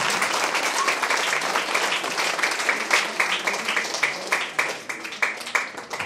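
An audience at a school summer camp celebration claps in sustained applause, a dense crackle of many hands that thins into sharper individual claps toward the end.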